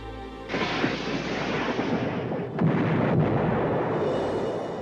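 A deep, rumbling blast of a World War II German U-boat torpedo firing and exploding rolls on with sustained roar, followed by a second heavy boom midway; loud and close, no voices.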